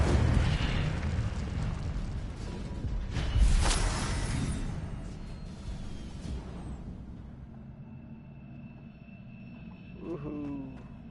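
Incendio fire spell cast in Hogwarts Legacy, a loud fiery burst and whoosh in the opening seconds with a second swelling blast near the middle, then fading into quieter game ambience with faint chimes.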